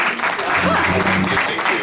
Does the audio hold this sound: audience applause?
yes